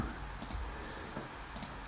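Computer mouse clicks: a couple of faint, sharp double clicks spaced about a second apart over a low room hum.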